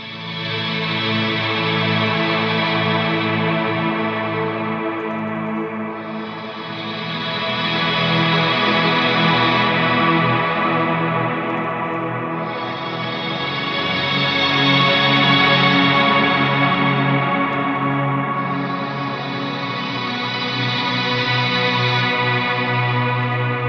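Ambient electric guitar through an Electro-Harmonix Mel9 Mellotron emulator pedal gives lush, sustained chords with chorus-like shimmer and distortion, swelling in slow waves of volume for over twenty seconds, no voices.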